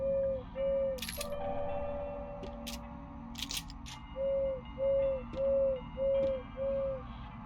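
A creature in the horror game Crow Country gives a run of hollow, tonal hoots, one long call then five evenly spaced short ones, clear over a quiet ambient hum with faint clicks.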